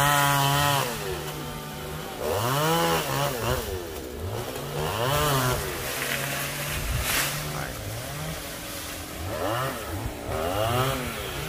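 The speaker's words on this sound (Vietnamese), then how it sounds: "anh sẽ cưa nhỏ nhỏ rồi anh thả xuống" A chainsaw cuts a golden oak tree, its engine revving up and down in repeated rising and falling whines, loud and close, with someone talking over it.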